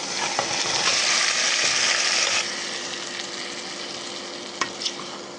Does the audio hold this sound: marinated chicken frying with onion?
yes